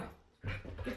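A dog makes a brief, faint whimpering whine, close by and rising suddenly after a quiet moment.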